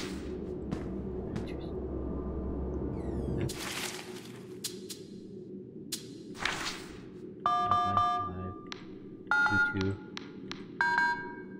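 Phone number being punched into a handset in Five Nights at Freddy's: Into the Pit, a run of short electronic tone beeps in distinct clusters after a stretch of low background rumble, clear and close.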